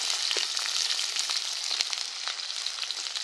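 Shrimp and cut green chillies frying in oil for a bottle gourd and prawn curry, a steady close sizzle with a few light stirring clicks and no talk.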